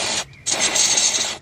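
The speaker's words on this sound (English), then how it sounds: "Quick spray with some electrical contact cleaner." Aerosol electrical contact cleaner sprayed into a dirty BMW brake component in a short close hiss, a brief burst followed by a pause and then a longer steady spray that tapers off.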